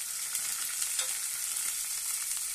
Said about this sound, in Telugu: ఆనియన్ వేసి మంచిగా కలుపుకుందామండి